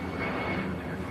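An EasyJet airliner climbing out after takeoff gives a steady, broad jet roar throughout, moderately loud and continuous with no voices.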